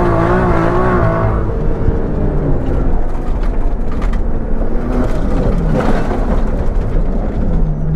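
A Nissan Skyline GTR Safari driven on a gravel rally stage, its engine loud and close throughout, with pitch rising and falling through gear changes and the rush and crunch of gravel under the tyres.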